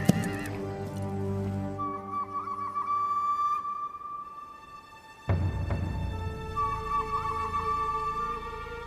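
A horse whinnies loudly twice, long wavering neighs with a pause between, over a faint background of hooves and ambient sound.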